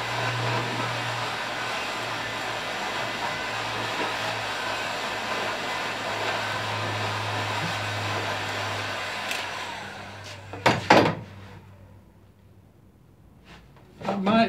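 A ram's horn being heated to bend into a crook, under a steady roaring blower like a hot-air gun that cuts out near the end, followed by brief knocks and quiet.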